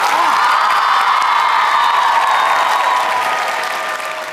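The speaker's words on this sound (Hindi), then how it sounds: "अरे तालियां अपने लिए बजाओ जोरदार तरीके से" Loud, sustained applause with some cheering and whoops from a college audience at a quiz show, a continuous crowd roar that eases slightly at the end.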